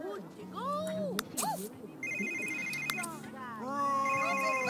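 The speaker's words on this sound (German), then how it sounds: "Nein, Telefon, hau ab." A phone in The Sims 3 rings with a repeating electronic ringtone in short bursts, heard alongside game music and a voice talking over it.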